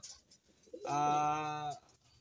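A single drawn-out pigeon coo, close and clear, a low throaty rolling call lasting under a second amid near silence.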